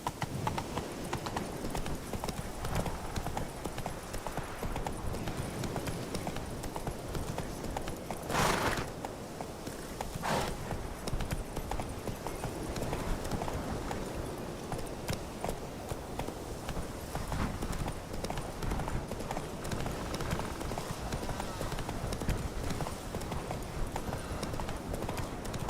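In The Witcher 3 video game, a horse's hooves clip-clop at a quick, continuous gallop, moderately close, with a faint voice briefly heard over it.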